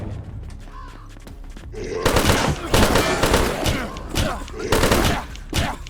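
Bursts of gunfire in the video game Zompiercer, rapid loud volleys with thuds, starting after a quiet opening and repeating in clusters.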